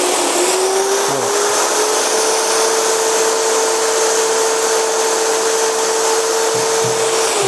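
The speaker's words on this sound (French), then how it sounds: "Grâce au X-Boot, je peux tailler ma haie au fond du jardin." Electric hedge trimmer powered from an Ecoflow River Pro portable power station, running as a loud continuous buzzing whir with a steady motor tone throughout, close by and with no talking.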